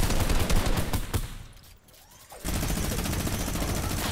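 Barrett sniper rifle and other automatic gunfire in a video game battle, dense rapid bursts that cut out briefly and then resume at full intensity, loud and continuous with no voices.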